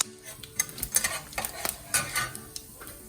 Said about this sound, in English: So when the oil is hot, add your whole spices to the oil. Add 1 teaspoon of cumins.